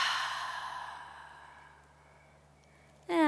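Forceful open-mouthed "ha" exhale during a yoga flow, a single long breathy sigh that fades out, followed by a brief voice at the end.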